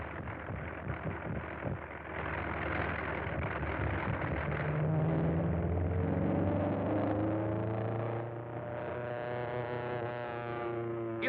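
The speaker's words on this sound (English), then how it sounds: "Sounds like he has engine trouble." An old propeller airplane with engine trouble drones and labors at steady loudness, its tone wavering and shifting pitch mid-flight, with no voices over it.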